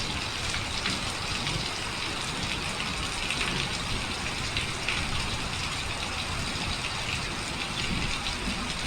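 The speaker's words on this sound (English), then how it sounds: "It's straight downpour." Heavy, windless rain downpour falling steadily on ground at dusk, a dense continuous hiss of drops with no pauses, moderately loud and even throughout, no voices.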